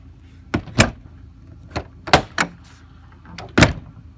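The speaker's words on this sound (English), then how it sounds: "Door closes like it should." Several sharp door thumps and latch clicks from an RV door being closed at a campsite, about five distinct knocks spread over a few seconds, close by with quiet in between.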